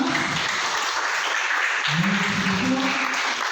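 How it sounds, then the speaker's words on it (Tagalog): Steady, dense applause from a congregation at a church gathering fills the whole stretch, loud and continuous, with a low voice faintly underneath partway through. "Ito palakpak"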